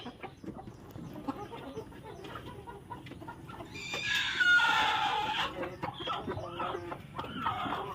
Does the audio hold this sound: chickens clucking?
yes